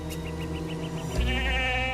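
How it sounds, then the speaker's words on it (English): A goat bleats in a drama set on a mysterious island, a single wavering, quavering cry over a low steady background hum, with no talk. "It's another goat."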